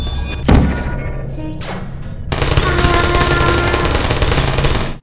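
Portal turrets in the video game fire a rapid stream of shots: a heavy thump, brief pauses, then a sustained loud mechanical burst of gunfire lasting several seconds.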